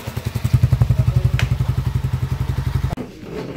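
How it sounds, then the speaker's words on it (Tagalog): Engine running with a fast, even thumping beat and a clattering rattle from a loose screw, loud and close, cutting off abruptly near the end. "Maingay lang yung tornilyo sa makina kasi hindi maigpit yan."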